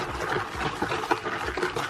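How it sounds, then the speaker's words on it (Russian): Mustard, baking soda and boiling water are stirred together in a container, a soft continuous sloshing and scraping of liquid, close and fairly quiet. "И смесь перемешиваю."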